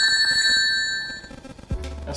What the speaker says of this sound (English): That's Sonic. Whenever he gets hit and the ringtone